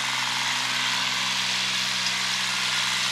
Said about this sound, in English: It's only a 14 horse tractor. 14 horse Kubota.